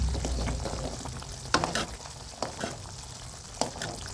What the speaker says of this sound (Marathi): एकसारखं असं पळीने बघा मी हलवायला लागलेलं वगैरे आहे